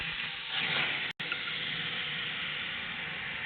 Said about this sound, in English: Now we pour water in the chamber